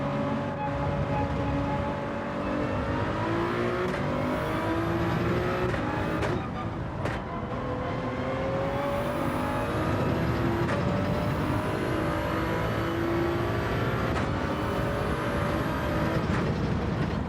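Race car engines in Gran Turismo 7 roar steadily throughout an online lobby race, several cars droning and revving close together with rising and falling pitch as they shift, loud and continuous with no talking.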